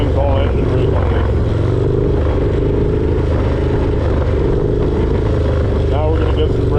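Harley-Davidson Dyna motorcycle engine braking while riding, a loud steady low rumble with deceleration burble, continuous and close with wind noise throughout.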